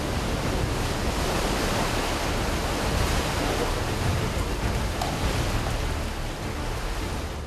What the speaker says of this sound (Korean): 썰물 때라곤 하지만 여전히 동굴 안엔 바닷물이 가득한데요